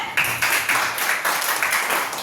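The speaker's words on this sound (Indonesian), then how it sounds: "Berikan tepuk tangan boleh?" Classroom applause during an elementary school lesson: close, loud rhythmic clapping in quick regular bursts from a group of pupils, lasting about two seconds.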